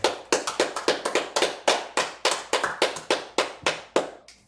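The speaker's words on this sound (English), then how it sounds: "All right, clap it up." Slow, sharp hand claps in a steady rhythm, about three per second, ring out loudly and close in a room at a religious gathering, each crack decaying briefly before the next.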